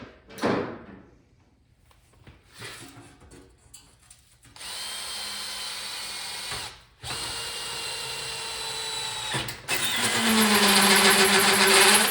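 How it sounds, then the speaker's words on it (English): A power drill drilling out bolt holes on an arcade control panel whirs in several sustained runs, steady and loud, separated by brief pauses and quieter handling noises, with the motor pitch rising in the final burst. "You don't want to spin the drill real fast"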